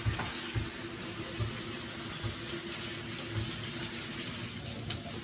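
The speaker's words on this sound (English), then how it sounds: "I'm going to have to go to the sink and wash my hands" Tap water runs steadily into a kitchen sink during hand washing, a continuous close splashing stream with small bumps from hands moving under it, no talking.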